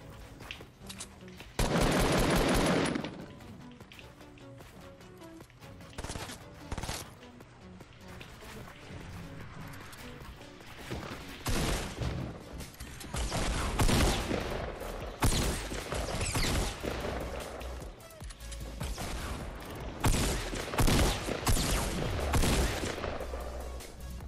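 Gunfire in the Fortnite Battle Royale solo game mode: loud bursts of rapid automatic fire and single shots mixed with impacts and clatter, coming in irregular clusters throughout.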